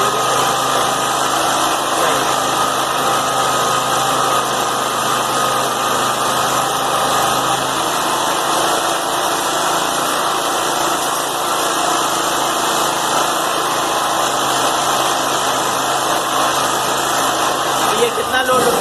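A generator engine holds a steady, loud drone under load, an unbroken high-pitched hum that runs evenly from start to end.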